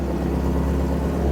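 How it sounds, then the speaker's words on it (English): A twin turbo Ford Mustang's engine runs at a steady low idle, a deep continuous rumble heard up close with no voices. "This car really sounds good, man."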